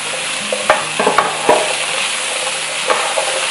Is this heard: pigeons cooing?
no